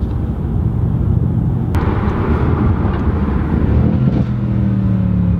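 A turbocharged Mercedes-AMG C63 S heard from inside the cabin, with a loud, steady low exhaust drone and burble and a couple of sharp pops cutting through.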